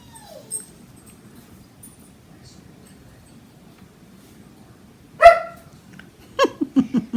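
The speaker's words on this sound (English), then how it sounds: "We start having the chorus of the dogs," A dog whimpers faintly at first, then lets out a sharp yelp, followed by a quick run of high yips and short barks near the end, all over a quiet, low rumbling background.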